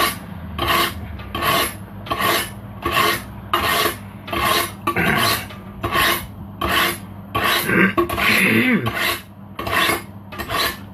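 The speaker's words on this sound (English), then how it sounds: "let me sharpen my knife" A kitchen knife is drawn against a sharpener in a steady series of about fifteen rasping strokes, each a short gritty scrape with brief gaps, close and fairly loud, with a few faint knocks between strokes.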